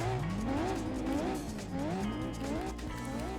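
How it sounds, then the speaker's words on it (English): A Mazda 6 MPS engine in the racing video game Gran Turismo 4 revs and wails as it shifts through gears, with tires squealing under the steady roar of the motor. "Oh, I like this engine sound."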